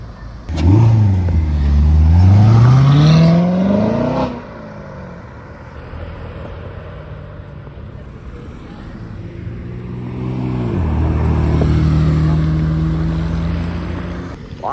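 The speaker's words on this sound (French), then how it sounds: "la petite Corvette C7 qui a accéléré là" A Chevrolet Corvette C7 V8 accelerates hard on a Deauville street, a loud rising engine roar followed by a quieter stretch and a second, lower rising pull.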